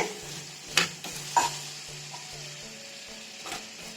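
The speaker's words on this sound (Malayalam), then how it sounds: "നന്നായിട്ടൊന്ന് തിളച്ച് വരുന്ന പരുവുണ്ടല്ലോ, ഒന്ന് തിളച്ച് വരുന്നുണ്ട്" Sugar and water bubble over a low flame in a pan as they caramelize, giving a soft, faint, crackling simmer with a few sharper pops and stirring scrapes.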